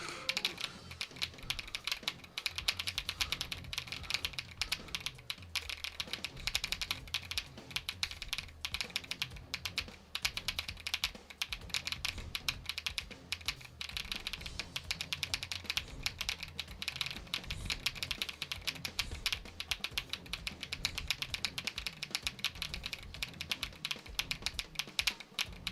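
A computer keyboard clatters with rapid, continuous typing and clicking throughout, close and steady, with faint music underneath during a livestream.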